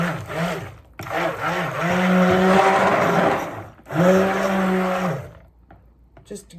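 A stick blender whirring in soap batter, two long motor runs with a short pause between, loud and close, whining with a slightly wavering pitch before cutting off near the end.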